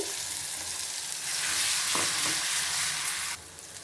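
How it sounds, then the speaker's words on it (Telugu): A blended paste of onion, spinach and green chili fries in a pan with a loud, continuous sizzle, briefly stirred, then quieting slightly near the end. "చూడండి బాగా వేపుకుందాము. ఈ పచ్చి కారం అంతా కొంచెం బాగా ఫ్రై అవ్వనండి."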